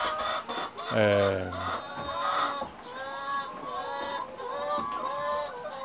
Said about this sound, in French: en arrière, on a les 99 poules pondeuses